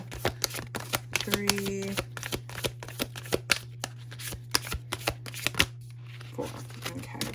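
Oracle cards drawn one by one from a deck during a Gemini reading, giving a steady run of crisp, close card snaps and shuffling flicks under a constant low hum, with a voice briefly counting along.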